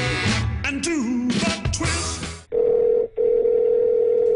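A phone call is placed: a burst of tones and chirps gives way to a loud, steady dial or ringback tone that briefly cuts out and resumes, close and clear with no speech.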